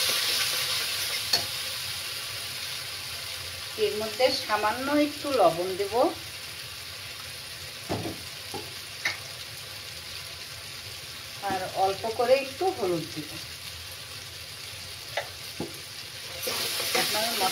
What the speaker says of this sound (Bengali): আমি এটাকে খুব ভালো করে একটু ভাজা ভাজা করে নেব